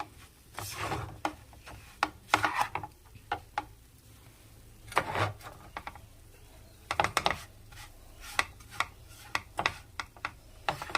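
Milk powder mixture for laddu being stirred by hand in a bowl, giving irregular soft scraping and tapping strokes, fairly quiet and close, with brief pauses between bursts.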